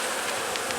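Honey bees on a hive frame make a dense, steady buzzing hum that stays even and close throughout, with no voices.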